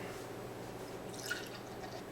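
Saranac Pumpkin Ale is poured into a glass, a faint, soft trickle and splash of liquid with no talking.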